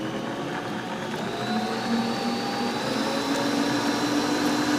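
An electric mixer whisks on high for chocolate mousse, a loud steady whirring drone with a faint rising tone, continuous and close with no speech.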